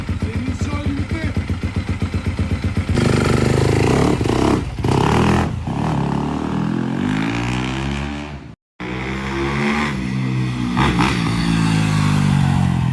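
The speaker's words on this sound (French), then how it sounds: "Pour le 50e anniversaire de Yamaha, ben, ils ont sorti ce modèle de moto." Yamaha 50th anniversary motorcycle engine running close by, loud and rough with a rapid idle chatter that rises into revving, dips and swells, briefly cuts out, then roars back.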